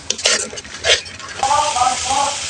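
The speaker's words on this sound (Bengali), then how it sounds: "মশলাটা ভালোভাবে কষিয়ে নেব" A ground spice paste of cumin, garlic and chili powder with salt and turmeric being stir-fried in a pan: sharp utensil clinks and scrapes at first, then a loud continuous sizzle with rhythmic stirring, close up.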